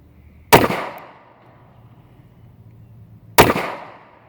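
Two sharp gunshots from a Taurus 709 Slim 9mm pistol crack out about three seconds apart, each loud and close with a short ringing decay, separated by quiet.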